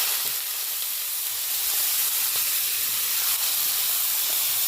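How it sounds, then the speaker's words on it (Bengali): Chopped vegetables for chow mein hit a hot pan with a sustained, loud, even hissing sizzle lasting several seconds, no voices. "গরম হয়ে গেছে, এবার কেটে রাখা সবজিগুলো দিয়ে দেওয়া হচ্ছে।"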